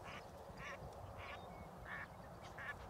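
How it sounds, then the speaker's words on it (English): Ducks quack near a small pond outdoors, about five short nasal calls spaced roughly half a second apart, faint and somewhat distant over low wind rumble. "I did not realize there were ducks right there"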